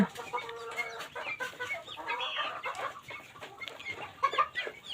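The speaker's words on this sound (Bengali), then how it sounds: "আমার নিউ রানিং কোয়েল পাখিগুলা পাখিগুলা খাবার খাচ্ছে" Quail birds eat feed in a pen, with a continuous mix of close chirping, clucking-like calls and pecking noises throughout.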